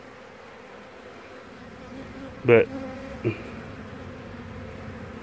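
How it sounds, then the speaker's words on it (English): A modest swarm of honey bees buzzes in a low, steady drone, with a couple of louder passes as individual bees fly close by; a brief spoken word is barely there. "There's a decent size amount of bees in it."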